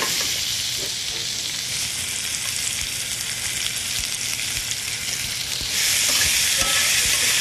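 Plum tomatoes and garlic frying in a pan give off a steady, loud sizzle with light stirring, close up, intensifying slightly near the end, with no speech.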